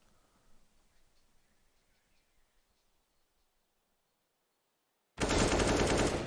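A sudden loud burst of automatic gunfire sprays in a Counter-Strike match on the Inferno map, erupting after several seconds of near silence.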